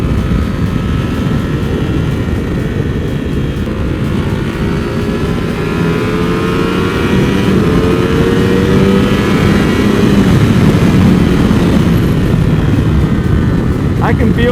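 Custom Ducati Monster 1200 with winglets ridden on twisting roads, its engine a steady close drone with rising and falling pitch as the rider works through the gears, wind rush mixed in, throughout the ride.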